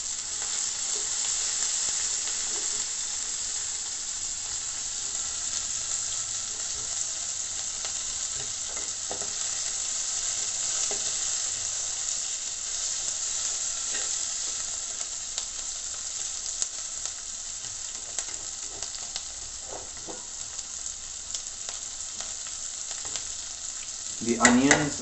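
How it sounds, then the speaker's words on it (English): Onions sizzle and fry in a pan over a low flame for bhune pyaz pulao, a steady soft crackle with occasional stirring clicks and a brief louder clatter at the end. "The onions are turning pink now, and after that they will turn lightly brown."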